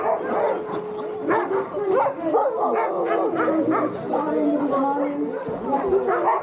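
Alaskan sled dogs, several of them in harness, bark, yip and whimper in a loud, busy chorus close by, with people chattering among them.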